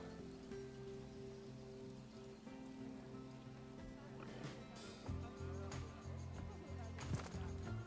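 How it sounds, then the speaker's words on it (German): Steady rain patter in the zoo-building video game Planet Zoo, a continuous hiss beneath tonal game music, growing somewhat louder toward the end. "Aber jetzt regnet es gerade"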